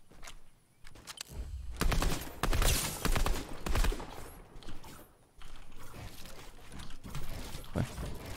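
Rapid bursts of video game gunfire in Fortnite crackle loudly, with overlapping shots and clatter, briefly dropping out before resuming.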